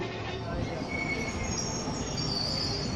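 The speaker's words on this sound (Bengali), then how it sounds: "ট্রেন এলো 10 মিনিট লেটে।" A train pulls into a station with a sustained high metallic squeal of wheels on rails over a dense rumbling roar, loud and close, steady throughout without speech.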